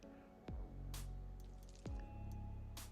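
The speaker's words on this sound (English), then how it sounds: "pour it into your pitcher" Strawberry sweet tea pours into a pitcher as a steady, close liquid stream, with a couple of soft clunks of the container in between, heard alone without talking.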